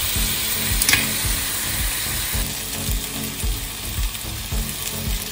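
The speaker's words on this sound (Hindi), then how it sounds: "हनी पेस्ट करने के बाद हमारे फ्लेक्स अच्छी तरह दोनों साइड से फ्राई हो चुके हैं।" Chicken fillets frying in a pan after being brushed with honey paste, a steady close sizzle with a rhythmic low scraping pulse running through it.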